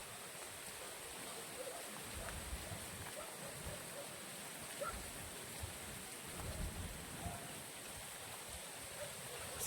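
Heavy rain pours steadily over a village in Tiruchengode near a field of corn, a dense constant hiss with low rumbling underneath, distant and even throughout.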